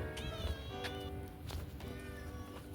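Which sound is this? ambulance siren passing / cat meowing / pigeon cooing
cat meowing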